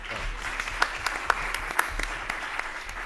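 An audience at a green finance conference session applauds, steady clapping with a few sharper individual claps standing out, moderately loud and continuous.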